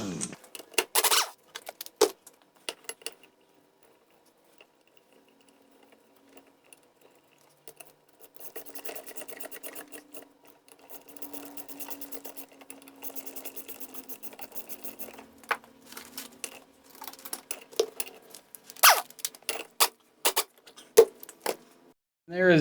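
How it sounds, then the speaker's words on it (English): Metal parts clink, tap and rattle close by as the flywheel is removed and the ignition of a Johnson 15 HP outboard motor is taken apart, with scattered sharp clicks, scraping and quieter stretches in between. "so we'll get the flywheel off and take everything apart."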